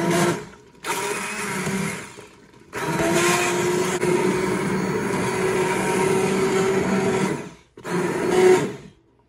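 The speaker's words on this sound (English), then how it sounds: "So I'm just gonna use the immersion blender now to" An immersion blender whirs through homemade tomato sauce in a pot, a loud, steady motor drone that runs in three bursts with short pauses between, no talking.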